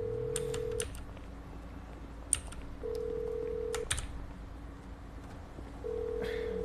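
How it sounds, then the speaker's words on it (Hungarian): Phone keypad tones dialing in GTA V, short beeps sounding in a row followed by longer steady tones, with soft clicks and faint noise in the background. "Várjál, el kell intézek egy telefon."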